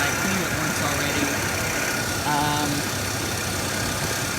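A 1981-1983 Chrysler Imperial with electronic fuel injection idles after a fresh start, giving a steady, even engine rumble and hum that runs unbroken and fairly close throughout.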